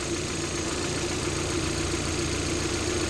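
A car engine idles steadily as the AC compressor kicks in, a continuous mid-low engine hum with a faint knocking texture, close and even throughout with no talking.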